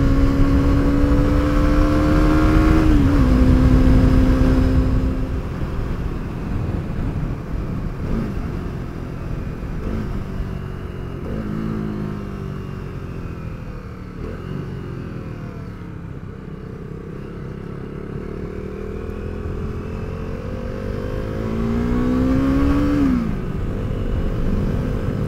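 A motorcycle cruising along a road in Tasmania, its engine a loud, close, continuous drone with rising and falling pitch as it shifts through gears and accelerates, accompanied by wind rush.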